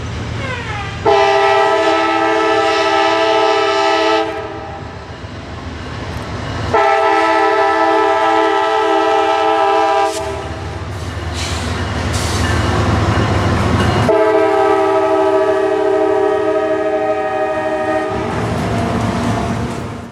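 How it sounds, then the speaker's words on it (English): At a rail junction in the rain, a train rolls past with a loud horn sounding in three long blasts, separated by rumbling wheels and clattering cars close by. "our first train showed up"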